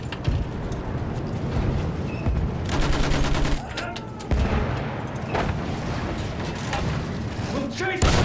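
Machine gun fire rattles continuously in the World War I video game Battlefield 1, loud rapid bursts with heavy booms from explosions mixed in, while soldiers shout over the battle.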